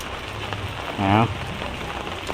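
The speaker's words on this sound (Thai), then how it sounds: "มื้อนี้ฝนตกบ่หลายปานใด" Rain falls steadily at an evening market in Taoy, Salavan, a constant soft patter throughout while a person speaks briefly near the middle.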